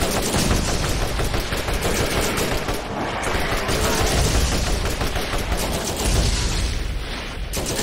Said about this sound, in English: Let's put up a turret.